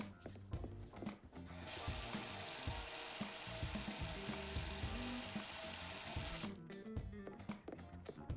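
A fish being washed under a running tap in the Chef Life restaurant simulator: a steady, hissing stream of water holds for several seconds between clattering kitchen sounds and a light musical background, then cuts off.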